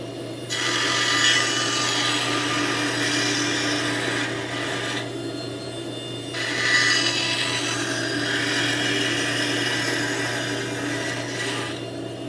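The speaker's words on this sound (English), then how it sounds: "So what I like to do when I make these is bring them over to the bandsaw and make" A bandsaw cuts through a wooden push stick. Two long, loud, steady passes of blade rasping through wood sit over the machine's constant hum, separated by a brief easing of the cut.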